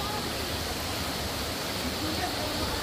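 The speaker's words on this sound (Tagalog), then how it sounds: "Kaya nga, maliit lang pala yung waterfalls dito" A small waterfall pours in a steady, dense rush of water that fills the scene without pause, close and fairly loud, with no clear talking over it.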